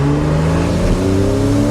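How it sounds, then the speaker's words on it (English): Porsche 911 997.2 with a naturally aspirated flat-six boxer engine accelerating, a smooth, steady, loud engine thrum with rising harmonic tones held throughout, close and alone. "the normally aspirated flat sixes are renowned for how they sound. That thrum, that boxer thrum, is just so smooth and unmistakable"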